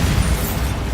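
Bombarda blasting spell from Hogwarts Legacy bursting as one loud, heavy explosion with deep rumbling low end that fills the whole second.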